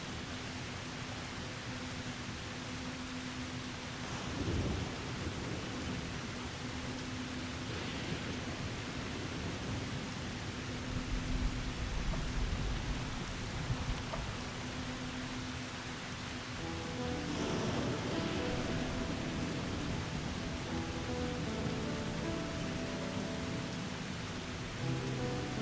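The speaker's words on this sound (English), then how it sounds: "Yes, it's raining. In the game, it's raining." Rain in the game Final Fantasy XIV Dawntrail, a quiet, steady hiss of rainfall with low rumbles swelling now and then, faint tonal music underneath and no talking.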